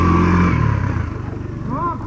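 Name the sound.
motorcycle engine running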